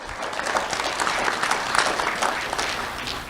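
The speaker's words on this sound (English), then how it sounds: "Let's have a round of applause for Lieutenant Capo." An audience at a Do The Right Thing awards ceremony claps steadily, a dense, even wash of applause from many hands that holds throughout with no pauses.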